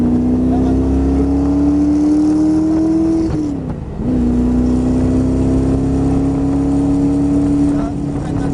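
An AC Cobra Shelby sports car's engine revs up in a rising roar, briefly drops as it shifts, then climbs again strongly and loudly from inside the car, with a French-speaking instructor talking over it.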